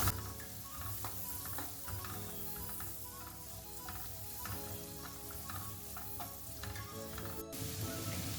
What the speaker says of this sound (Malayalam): അതിലേക്ക് കട്ട് ചെയ്ത് വെച്ചേക്കുന്ന ക്യാരറ്റ് ഇട്ട് കൊടുക്കാം. നമുക്കിതൊന്ന് ഷാലോ ഫ്രൈ ചെയ്തെടുക്കാം.